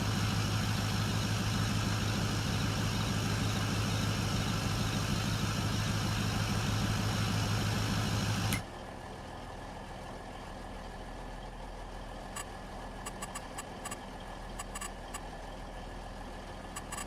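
A truck engine idles in the video game Farming Simulator 22, a loud steady low drone for about half the span before cutting abruptly to quieter background with faint clicks.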